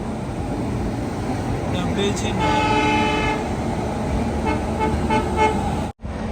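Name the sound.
Tamil Nadu Express train passing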